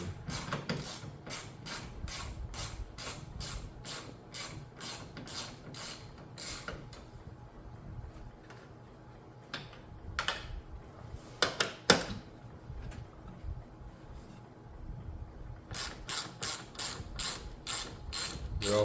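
Bolts are removed from a RAM 1500 headlight assembly with a ratchet, producing rapid clicking bursts in quick repeated runs, close and fairly quiet, with short pauses between sets and a few louder metallic knocks.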